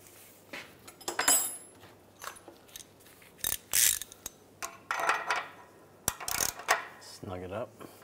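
Ratchet clicking while an O2 oxygen sensor is threaded into the exhaust of a 2006-2011 Cadillac DTS, with short bursts of metallic ratcheting and tool clanks close up, no talk.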